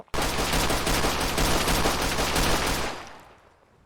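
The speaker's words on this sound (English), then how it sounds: "Or like a machine gun of some sort." A long sustained burst of rapid machine gun fire in Fallout 4, loud and continuous for nearly three seconds before tailing off into a fading echo.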